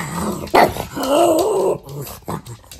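A dog growls low and steadily at close range, with short yipping barks breaking in near the start and again toward the end. No one speaks.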